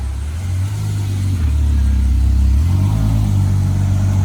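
A Ferrari 812 GTS engine gives a deep, steady rumble close by, swelling slightly midway with a low, smooth drone and no voices.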